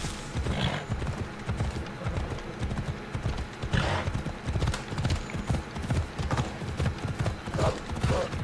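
Hoofbeats of a horse galloping in Assassin's Creed Odyssey, a steady rhythmic clip-clop running throughout, moderately loud with brief whinny-like accents and game background sound.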